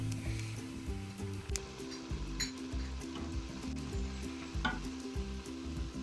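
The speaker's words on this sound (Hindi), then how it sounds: "इसके अंदर हम तड़का लगा रहे हैं" White cumin seeds sizzle in about half a spoon of hot oil in a frying pan for a dal tadka, a steady close crackle with occasional clinks of a spoon stirring.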